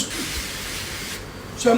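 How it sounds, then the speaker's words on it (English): Refined groundnut oil sprayed from a spray bottle in a kitchen: a long continuous hiss, close and fairly loud, tapering off near the end as a voice begins. "to spray this groundnut oil."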